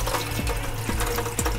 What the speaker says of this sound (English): I'm going to pour a little bit of living water from the living water appliance.